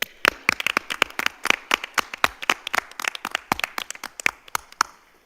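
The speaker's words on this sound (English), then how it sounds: "A big round of applause" Applause from the audience at a school board meeting, a dense run of sharp hand claps lasting several seconds at moderate loudness with no talk over it.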